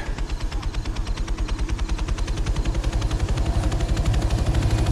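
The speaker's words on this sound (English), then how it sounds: "Well, we're taking this chopper" A helicopter in the zombie video game Zombies in New York, its rotor thudding in a steady, fast pulse under a dense engine roar, loud and close throughout with no talking.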